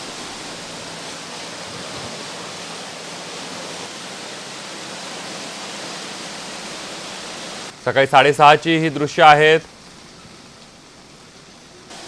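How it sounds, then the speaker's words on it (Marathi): Heavy monsoon rain pours down on Mumbai, a steady hissing wash that fills the air for several seconds before a voice speaks over it briefly, then the rain continues alone. "रात्रभर मुंबई आणि उपनगरांमध्ये मुसळधार पाऊस सुरू आहे"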